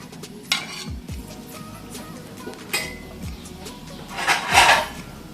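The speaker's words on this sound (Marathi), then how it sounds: "आता ते आपलं शिजवत ठेवले ना हळदीवर त्याच्यात ओतायचं त्याच्या झाकण ठेवूया" Mutton cooking with turmeric in a pot as liquid is poured in and a metal lid set on, giving several clinks and scrapes of metal cookware, with a louder clatter near the end.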